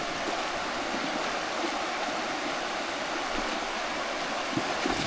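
River water rushes steadily as horses hauling coconut lumber wade across the river, a continuous broadband wash with no voices.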